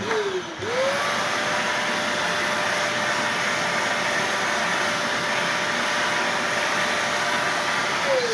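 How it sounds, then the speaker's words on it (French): Vacuum cleaner cleaning the grille of a desktop PC, switched on with a short rising whine, then a loud, steady, close suction roar with a constant motor tone for several seconds, winding down at the very end, no voices. "je vais allumer l'aspi et déjà on va nettoyer cette grille-là"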